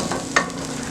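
Pork and onions sizzle steadily in a hot pan, a close, continuous frying hiss with a brief stir or scrape in the middle.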